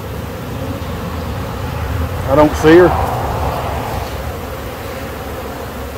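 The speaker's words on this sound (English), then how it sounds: "just notice how the bees, they don't just bolt out of the bucket. They're actually crawling around in there" Honeybee swarm crawling inside a bucket, a continuous low buzzing hum close by, with someone briefly speaking over it.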